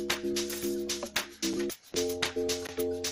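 Deep wobbling synth bass for amapiano (sgija) pumps in a steady rhythm with drums, briefly dropping out in a short gap before returning, made in FL Studio Mobile.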